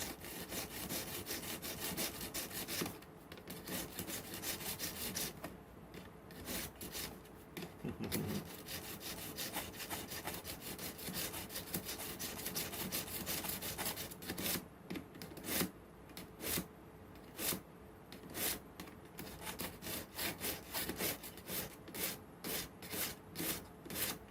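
A knife is drawn across a sharpener in light, honing strokes, producing a run of close, quick scraping rasps that turn into distinct rhythmic swipes toward the end.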